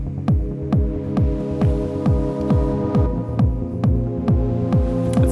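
A synthesizer pad in a Detroit techno track built from a square-wave oscillator: a sustained buzzy chord under a steady pulsing kick with a throbbing, pitch-dropping thump on each beat and ticking hi-hats, about two beats a second, with no talking.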